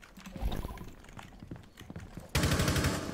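Rapid bursts of video game gunfire, sharp rattling shots in quick succession, ending in a louder sustained volley.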